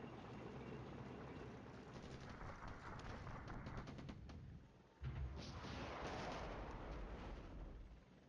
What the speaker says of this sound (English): I think we are being shelled here, to be honest.